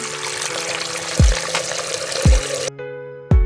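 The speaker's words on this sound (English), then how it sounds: "I have taken one pot and I am going to put 3 liters of water" Water streams steadily into a cooking pot, about three liters, with a hissing, splashing flow, broken by a few dull knocks before it stops and clanks again.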